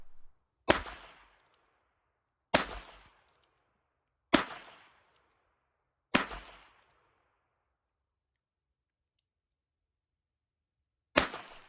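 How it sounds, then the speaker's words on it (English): Heritage Rough Rider .22 single-action revolver fired one-handed: four sharp, loud cracks roughly two seconds apart, each ringing out briefly, then a longer pause before a fifth shot, no talking. "Let's start off by firing one-handed and see how the Rough Rider does."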